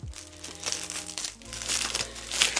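Plastic wrap crinkles and crackles up close as it is handled around a diorama base, a busy, continuous rustle with sharper crunches, and no one speaks.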